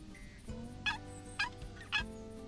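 A wild turkey in theHunter Classic gobbles three times in quick succession, each call a sharp, rattling burst over quiet outdoor ambience, fairly close.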